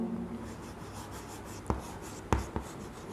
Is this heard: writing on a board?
yes